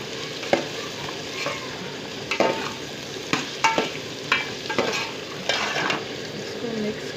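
Potatoes and onions for a village-style fish curry are stirred in a frying pan, with steady sizzling and repeated scraping strokes of a utensil against the pan, close and alone.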